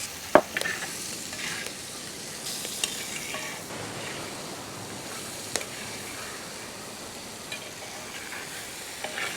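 Food sautés in a pan for a village-style bone marrow rice dish, a quiet steady sizzle broken by a few sharp clinks and scrapes as it is stirred, with no talking.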